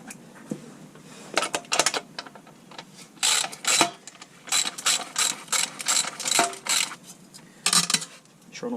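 Rapid ratcheting clicks in repeated bursts as a bolt is loosened on a KTM Duke 390 motorcycle, close and crisp, with occasional metallic clinks of small parts between runs.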